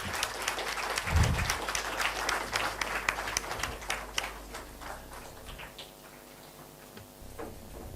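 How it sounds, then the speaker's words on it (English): Round of applause at a national educators' summit after an interactive session: fairly thin clapping from a modest audience that gradually fades away. "a big round of applause for this interactive session"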